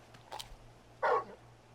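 A dog in the video game Final Fantasy XVI gives a single short, sharp bark after a faint earlier yelp, heard close and alone against a quiet background hum.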